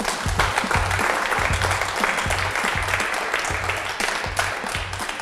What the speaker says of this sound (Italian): grazie degli applausi spontanei